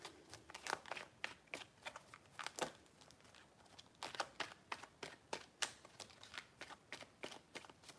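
Tarot cards being shuffled by hand: a quick run of crisp, papery riffles and snaps, with one burst of flicks and then another, close and fairly quiet, with no voice over it.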